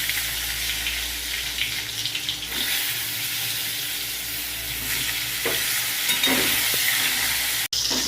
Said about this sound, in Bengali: তেল গরম হয়ে গেছে, এবার আমি এই বেগুনগুলো ভেজে নেব।